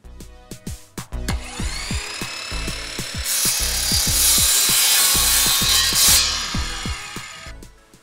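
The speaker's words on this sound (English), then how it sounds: "I'm using my mitre saw, it makes it very nice and easy." A mitre saw cuts through pallet timber, its broad whining roar rising after a few sharp knocks and holding steadily for about three seconds before winding down, close and loud with no talking.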